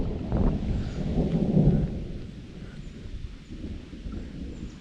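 Thunder from a storm over a river rolls and rumbles, swelling to a deep peak before fading into a steady low grumble, with rain-like hiss underneath and no talk.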